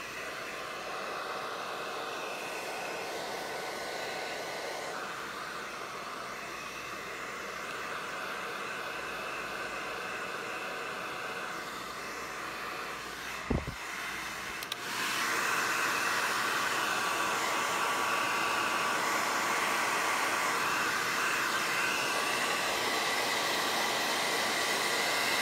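Hair dryer blowing steadily to dry paint on a miniature terrain stone texture, a continuous broadband whoosh heard close and loud, with a brief click partway through before the airflow resumes slightly stronger.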